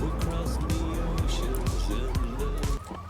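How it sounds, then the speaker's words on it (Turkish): A loud, wailing siren-like alarm in the video game GTA 3 cycles up and down repeatedly, close and sustained, with a low rumble underneath. "Bunun alarmı muhtemelen çalmaya başlayacak."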